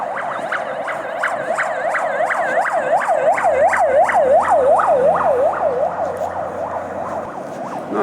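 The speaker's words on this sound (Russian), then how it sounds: "там какая-то скорая помощь, да, по всей видимости, реанимация едет" An ambulance siren wails in a steady rising-and-falling cycle as it passes along a snowy winter street in Yakutsk, loud and close, with traffic rumble beneath and no talking.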